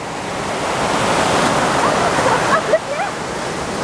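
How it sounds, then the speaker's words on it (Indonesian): Waves at Kroko Beach make a steady roaring wash, growing slightly louder midway, while brief faint voices surface near the end. "Dan ini pantainya, Pantai Kroko"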